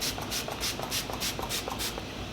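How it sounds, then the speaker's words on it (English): A rapid series of short, hissing spritzes from a bottle of Anastasia Dewy Set makeup setting spray, about eight quick bursts in a steady rhythm, close by and fairly quiet. "let's add a little bit of setting spray"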